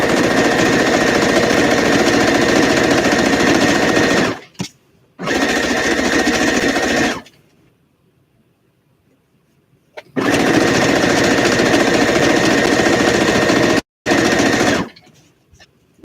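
A sewing machine stitching a denim jacket runs in loud, steady bursts of fast mechanical whirring, stopping for a quiet pause of a few seconds before starting up again, with no talking.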